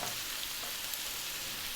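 Meat browning in a pan over medium heat with salt, black pepper, thyme and bay leaf for a Lancashire hotpot, giving a steady, close hiss of sizzling with no break and no voices.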